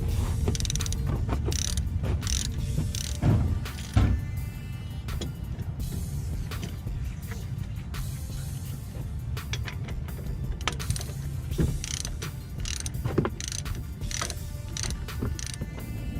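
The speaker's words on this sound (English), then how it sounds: "So the last step was to tighten down our 15mm bolts." 15mm bolts on the rear brakes of a 2011-2018 Dodge Charger SE AWD are tightened with a ratchet, its rapid clicking bursts repeating close by over a low mechanical hum.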